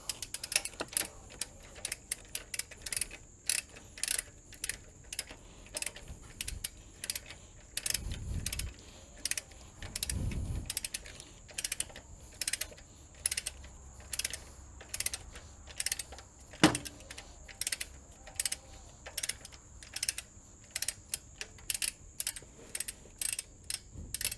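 A nut on a stud gets tightened to 40 foot-pounds during a timing belt replacement on an 05 Magnum, with quiet, rhythmic ratchet clicks repeating in steady bursts and a few thumps in between.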